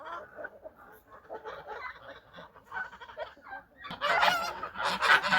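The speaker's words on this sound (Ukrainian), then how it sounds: "Горбоносі хитрі взагалі гуси." Hook-nosed farmyard geese near a feeding trough give repeated honks and chattering calls, growing louder and denser toward the end, close by.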